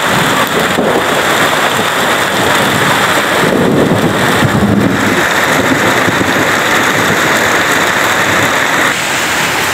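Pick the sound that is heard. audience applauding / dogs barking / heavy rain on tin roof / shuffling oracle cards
heavy rain on tin roof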